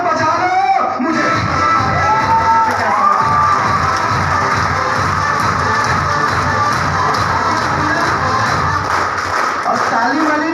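An audience cheers and shouts loudly and continuously, with children's voices among the crowd noise and faint clapping underneath.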